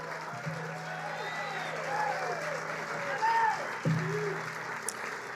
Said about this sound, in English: I want you to stand up, get on your feet, and give a loud round of applause to Scott Herbert